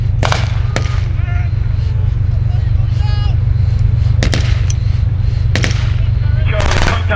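Infantry suppressive gunfire during a British Army demonstration at Tank Fest: sharp, loud shots crack out in scattered bursts over a constant low engine rumble, with someone talking in between.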